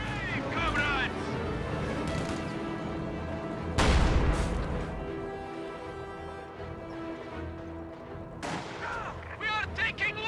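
Enemy gunfire and artillery striking a headquarters in a WWII real-time strategy game: a continuous din of battle under voiced unit chatter, with a heavy boom near the middle and another loud impact near the end.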